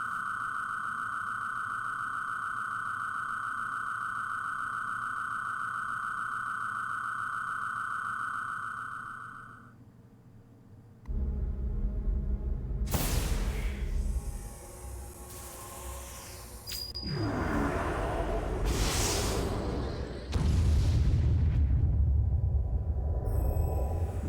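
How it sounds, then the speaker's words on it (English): Quantum torpedoes firing and exploding from a starship in Star Ocean: Till the End of Time. A steady electronic tone cuts out, then a series of loud whooshing blasts and rumbling impacts follows. "Fire the quantum torpedoes!"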